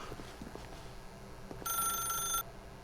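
An old-style telephone bell in The Stanley Parable rings once in a bright, metallic trill of about a second, over a low ambient hum and a few soft knocks.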